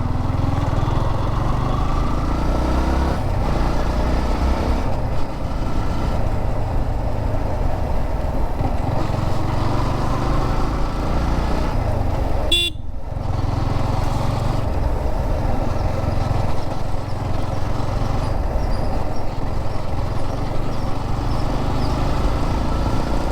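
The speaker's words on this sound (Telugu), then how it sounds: "నాకు ఎక్కడో ఇంజన్లో సౌండ్ అయితే వస్తుంది" Motorcycle engine with a faint abnormal engine noise, droning steadily and loud while riding along a beach road, with a brief sharp break midway.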